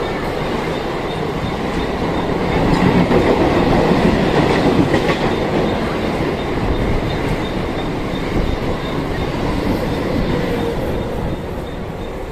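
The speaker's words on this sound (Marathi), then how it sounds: "ट्रेन चालली आहे" A Mumbai local train rumbles past a station platform nearby, loud and continuous, with a faint clickety-clack of wheels and no talking.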